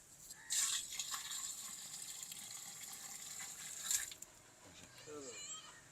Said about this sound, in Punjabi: ਹਾਂ ਸੇਰ ਪੂਰਾ ਦੁੱਧ ਆ ਜੀ, ਉਹ ਪਾਣ ਲੱਗੇ ਖੰਡ ਦੇ ਵਿੱਚ